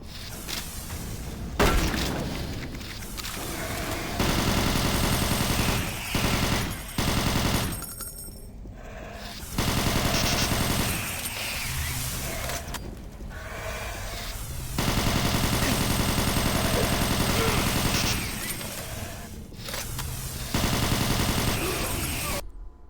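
Rapid automatic gunfire in Doom 3 on Ultra-Violence difficulty: long, loud sustained bursts broken by brief pauses, with game effects in between.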